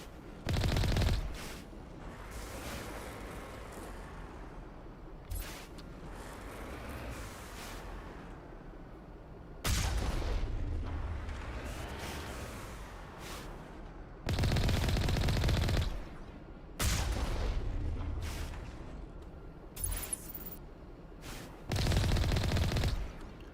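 Heavy gunfire from Mass Effect Legendary Edition comes in repeated loud bursts of rapid shots, each few seconds long and separated by quieter gaps of combat ambience.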